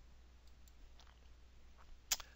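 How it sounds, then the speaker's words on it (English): A computer mouse is double-clicked in a quiet office setting, giving a faint pair of small clicks near the end after a few softer ticks, with no talking. "I'll just double click it"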